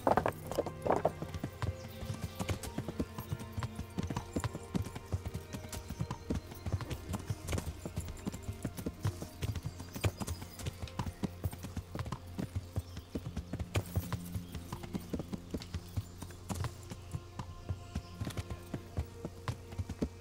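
Continuous galloping hoofbeats thud in quick rhythm for the whole stretch, with a horse whinnying near the start, in the video game Kingdom Come: Deliverance.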